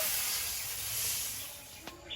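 Water is poured into a hot wok and sizzles into a steady, soft, close hiss that fades slightly toward the end, with a small clatter near the finish.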